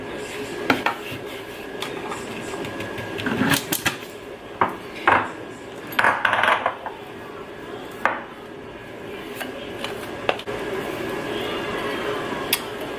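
A spoon scrapes snickerdoodle protein ball mixture made with whey protein powder out of a bowl, in a string of short, close scrapes and clinks separated by brief pauses.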